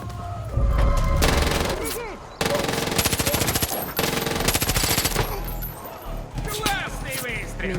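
Rapid bursts of automatic gunfire in Far Cry 5 crackle loudly throughout, layered with game sound effects and occasional voices.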